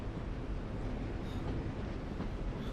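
A train rumbles along in The Walking Dead video game, a loud, steady low roar of wheels and carriage noise with no break.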